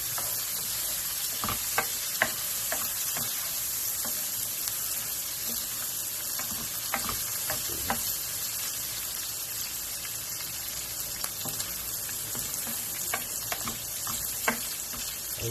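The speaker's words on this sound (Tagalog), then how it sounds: "Ito siya, halo-haloyin lang po natin." Food sizzles steadily in a hot frying pan after a pinch of salt, with a spatula or spoon scraping and clinking through it at irregular intervals, close and continuous for the whole stretch.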